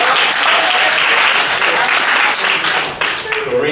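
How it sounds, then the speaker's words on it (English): An audience claps loudly at an event honoring speakers, a full and sustained burst of applause with some individual claps standing out. There is a slight dip and then the clapping continues toward the end. "Let's round of applause."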